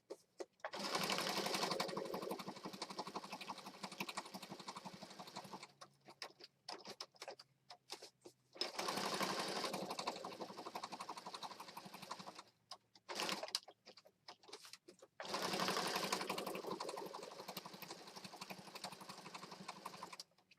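A sewing machine stitches pocket journals in three long bursts, with quieter pauses and small handling noises between runs; steady, close and fairly loud.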